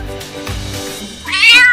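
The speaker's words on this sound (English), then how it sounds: "Cat." A domestic cat gives a single short meow, close and clear, rising into a bright, higher wail at the end, with no one talking.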